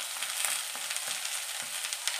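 Chopped onion fries in hot oil in a pan for masale dubukaly, a steady bright sizzle with soft knocks from occasional stirring, close and continuous with no talking.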